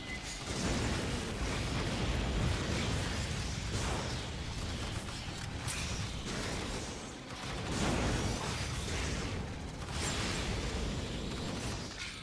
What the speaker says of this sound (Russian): Я тупо ставлю мины, они на них взрываются.